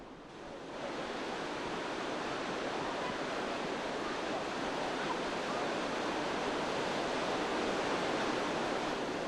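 Steady, broadband roar of rushing water, constant and full throughout, like a waterfall heard from close range: Tomara Waterfall in Şiran, Gümüşhane, Turkey.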